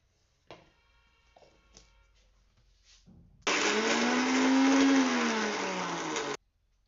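An electric mixer grinds peeled amla gooseberries into paste, starting after a few light clatters of handling and running as a loud, steady whirring drone for about three seconds, its pitch sagging slightly under load before it abruptly stops.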